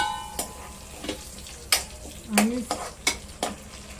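Onions fry in a pan for a chicken curry: a low background sizzle broken by repeated sharp clinks and scrapes of a spoon stirring against the pot, close by.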